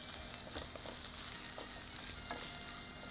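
Capsicum (bell pepper) sautés in a pan, giving a soft, steady sizzle and frying crackle with faint stirring scrapes, no talking.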